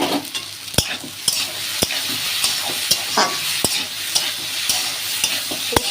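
Potatoes with poppy seed paste get stirred in a sizzling pan, sharp spatula clacks against the pan landing every second or so over a constant frying hiss, close and clear.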